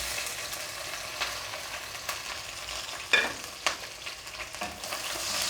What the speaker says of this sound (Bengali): এখন আমি এগুলো খুব ভালো মতো নাড়াচাড়া করে নেব